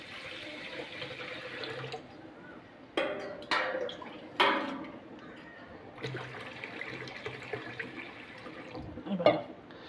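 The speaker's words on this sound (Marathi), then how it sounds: "पाणी टाकूया" Tap water splashing into a vessel of washed urad dal, quiet running water broken by several louder bursts of pouring and clinks, close by.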